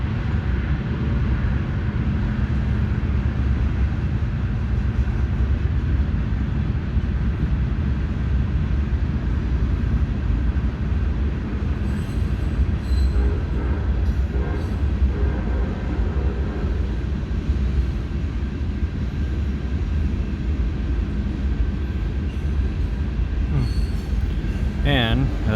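A freight manifest train rolls past on the railroad, a steady loud rumble of wagons and wheels continuing throughout, with faint wheel squeal and clanks rising near the end.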